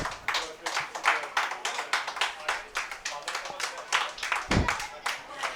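Audience at a children's art workshop closing ceremony claps in a rhythmic, fairly sparse round of applause, individual hand claps distinct and pulsing steadily, with a voice talking over it.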